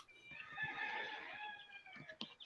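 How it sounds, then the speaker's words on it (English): A rooster crows once, a faint drawn-out call heard from a distance with some low background noise and a few soft clucks near the end. "Was that a chicken? No, it was a cock."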